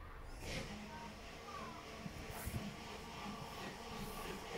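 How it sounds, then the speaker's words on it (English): Low rumbling of a metro train at Bras Basah MRT station in Singapore, with muffled mechanical clunks and faint voices in a reverberant space. "The train's at the Bras Basah MRT station."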